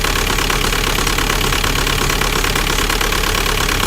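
A 2003 VW Jetta TDI turbo diesel engine idles roughly, a loud, steady, close clatter with an uneven knocking beat and no voices over it.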